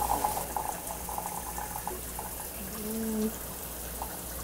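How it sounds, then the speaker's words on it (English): Water runs steadily from a GROHE Euphoria SmartControl exposed thermostatic shower system into a container, a close, even rush with a brief tonal hum partway through. "To do so, turn the water on."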